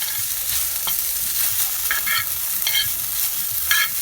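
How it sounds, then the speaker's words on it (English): Vegan okra with chopped garlic frying in a pan, giving a steady, dense, close sizzle with faint crackles throughout and no talking. "we're going to let this fry up and we'll be back"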